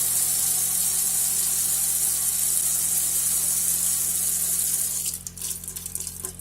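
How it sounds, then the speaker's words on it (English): Hot water tap running on a narrowboat, a steady hissing gush of water that carries on loud and even before breaking into spluttering, uneven bursts near the end. "if I open the hot tap, that pressure will be good until the hot water tank is empty"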